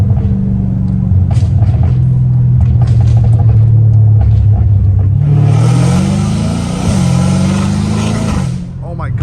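Straight-piped Dodge Challenger Hellcat Redeye engine, loud and close, rumbling and then accelerating hard in a rising pull, with a burst of roaring exhaust noise near the end; talk is heard over the opening.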